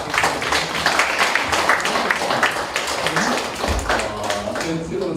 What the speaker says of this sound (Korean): 박사님 박수 부탁드립니다